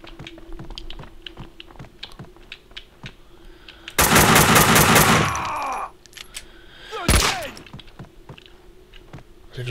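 Gunfire aimed at the player in Max Payne 2: a sharp burst of rapid shots, then a single loud crack a few seconds later, over scattered clicks and light game noise.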